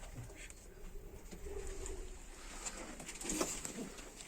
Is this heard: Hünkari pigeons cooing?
yes